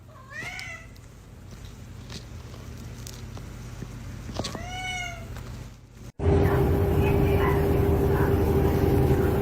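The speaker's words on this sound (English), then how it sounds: "Cats just be like, meow." A cat meows twice, clear rising-and-falling calls a few seconds apart over faint room noise, before a sudden switch to a loud, steady droning background.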